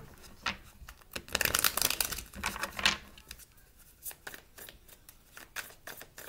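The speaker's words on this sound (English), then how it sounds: "Let me shuffle up a little bit." A deck of tarot cards is shuffled close up in repeated bursts of crisp riffling and flapping, with short pauses between them and no talking.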